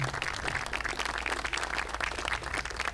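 A seated audience at a hazardous household waste collection drive anniversary event claps for the Central San staff, a steady, moderately dense patter of hands lasting throughout.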